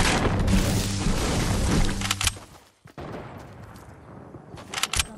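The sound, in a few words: gunfire in a video game sniper match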